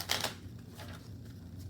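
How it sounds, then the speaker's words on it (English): Pokémon trading cards get riffled and cut in a quick burst of crisp flutters, followed by softer shuffling and tapping of the deck at a close table, with no speech. "shuffle my deck again, and have my opponent cut my deck"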